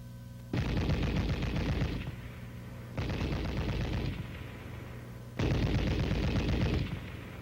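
An M73 7.62mm tank machine gun fires three sustained bursts, each lasting about one and a half seconds, loud and close with brief pauses between them.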